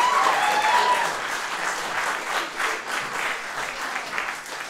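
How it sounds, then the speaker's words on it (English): Audience applause from a live comedy show crowd in San Francisco fills the space, loud at first and then settling into steady sustained clapping with no talking over it. "Let's give a big round of applause for Daniel."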